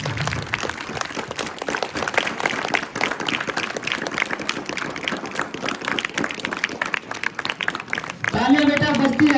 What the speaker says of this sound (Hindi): एक बार तालियों के साथ स्वागत और अभिनंदन सर के लिए भी